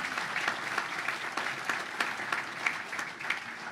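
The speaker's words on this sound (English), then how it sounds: "So let's give them a round of applause." An audience at the National Sailing Hall of Fame induction claps for the 2018 inductees, a steady, moderately distant wash of applause with no speech over it.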